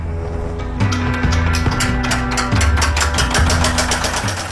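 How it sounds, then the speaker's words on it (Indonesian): A coffee hulling machine strips the dried skins from coffee beans with a loud, steady motorized drone, broken by repeated knocking thumps and clattering, and no voices. "Lalu kulit dan biji kopi dipisahkan dengan mesin khusus"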